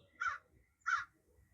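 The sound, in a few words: crows cawing in a pine tree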